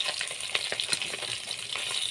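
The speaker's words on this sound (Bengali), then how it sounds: "উল্টে পাল্টে মাছ খুব ভালোভাবে ভেজে নিয়েছি" Tilapia fish fry in hot oil in a kadai, giving a steady, close, crackling hiss with small bright pops scattered throughout.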